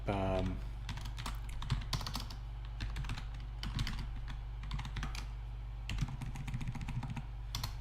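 Someone types on a computer keyboard, a run of close, quick key clicks in uneven clusters over a steady low hum.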